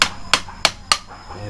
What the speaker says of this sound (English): it's a bit tight on there so we can knock it loose